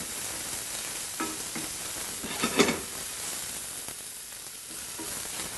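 Onions for mushroom risotto sweating in a pan while being stirred, a soft steady sizzle broken by a few scraping stirs, one of them louder in the middle.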